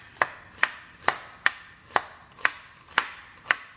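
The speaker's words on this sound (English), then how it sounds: "we're going to start chopping these Vidalia onions" Knife chopping Vidalia onions on a cutting board, eight crisp, evenly spaced chops about every half second, close and clear with no talk.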